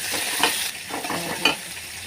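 Onion, dried chili and tomato fry in hot oil in a pan, giving a steady sizzle with a few stirring scrapes and clinks.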